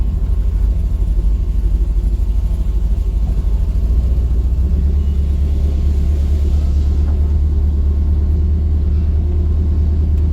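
A car fitted with a Turbo 400 automatic transmission and a stage 2 B&M shift kit rumbles loudly and steadily while driving, its deep engine drone constant throughout with no voices heard.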